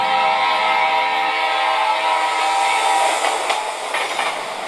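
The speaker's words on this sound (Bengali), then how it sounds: "9টার ট্রেনটার দেখা মিলল।" Train pulling into a station platform at night, a loud sustained rumble and wheel roar with metallic rattling and clatter building toward the end.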